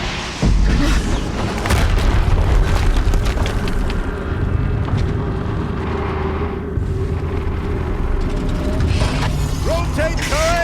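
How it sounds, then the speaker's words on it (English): Explosions in the video game Horizon Zero Dawn, with loud, sustained rumbling booms mixed with heavy mechanical clanking and grinding. "Another explosion."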